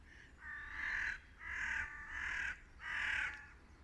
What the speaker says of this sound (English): Oh look, crows. Bloody row